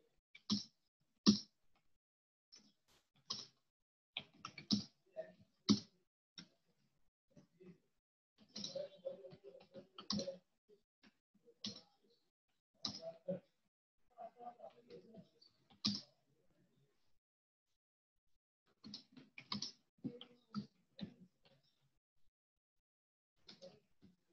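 Keys clatter on a computer keyboard as text goes into a Word document, coming in scattered bursts of clicks with pauses between them and a few separate louder taps.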